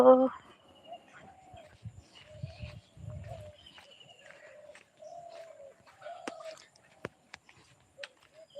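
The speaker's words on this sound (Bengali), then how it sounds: "পাখির ডাক শুনতে পাচ্ছ বন্ধুরা তোমরা" Morning birds call around a village, with soft, repeated dove-like cooing and thin chirps spread through the clip. Low murmuring voices sit beneath the birds.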